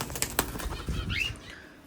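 Pet birds flap their wings in a short burst of soft, quick fluttering beats, close by, with a faint high chirp near the end and no talking.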